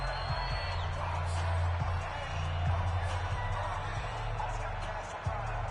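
Simulated stadium crowd in a PS4 football game during a third-down defensive stand, a constant low roar of fans that stays under play-by-play commentary throughout.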